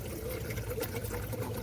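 Water from a bottle is poured into a tin pan sitting in a gas grill, a brief, faint, steady splashing trickle.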